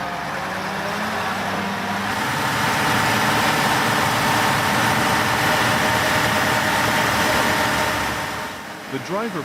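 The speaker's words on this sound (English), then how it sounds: "The driver pressed hard on the accelerator, trying to get out of the way, but it seemed unsuccessful." A truck stuck on a muddy, rough dirt road runs its heavy engine loud and steady, revving hard in a sustained drone close by, with a brief clatter at the end.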